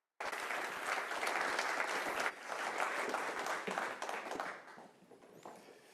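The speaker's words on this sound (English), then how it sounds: "Would you please give a warm round of applause for our panellists and speakers today?" A large audience at a Staffordshire ambassador event applauds its panellists and speakers, a dense steady roar of clapping that starts abruptly, holds strong, then thins and fades toward the end.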